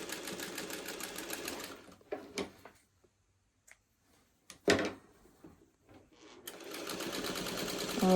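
Domestic sewing machine stitching a quilting seam in cotton fabric, running steadily, pausing with a few clicks and knocks from handling, then whirring again at close range.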